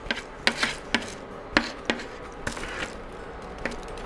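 A utensil scrapes pan juices from a pan into a chicken tikka masala sauce, making a series of irregular short scraping and tapping strokes at close range, moderately loud, with no talking.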